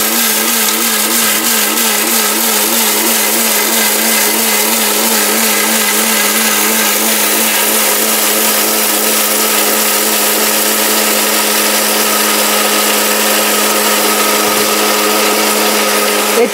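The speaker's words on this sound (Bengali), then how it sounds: "এটা ভাই এমন একটা শক্তিশালী ব্লেন্ডার" A powerful Havells blender grinds gram flour at full speed, a loud, steady motor whine running continuously without pause and no voices over it.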